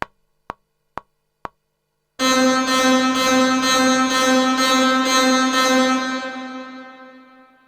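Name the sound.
recorded reverb tail in Logic Pro X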